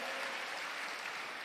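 A church congregation applauding, soft diffuse clapping held evenly for a moment, fairly faint and distant with no voices over it.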